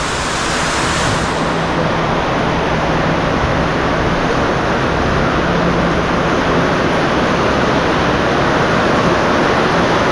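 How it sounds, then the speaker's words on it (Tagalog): Heavy rain pours steadily and loudly at a building project site, a dense, unbroken hiss that fills the whole stretch with no pauses or voices. "malakas yung ulan."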